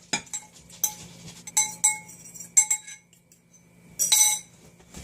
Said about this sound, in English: now mix your dry ingredients with the wet